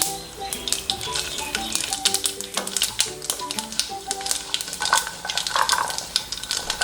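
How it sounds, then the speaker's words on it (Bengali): Mustard seeds and dried red chillies crackle and sizzle in hot oil, with a dense run of sharp pops and spits close up, over a faint steady background tone. "তেলটা ভালোভাবে গরম হয়ে গেলে দিয়ে দিচ্ছি 1 টেবিল চামচ সর্ষে এবং 3টে শুকনো লঙ্কা।"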